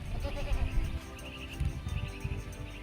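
Dairy goats on a farm bleat repeatedly at moderate distance, several overlapping calls over a low background rumble.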